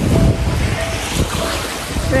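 Ocean waves and a strong current churn at a beach in Agdangan, making a dense, rumbling wash with heavy wind buffeting the microphone throughout.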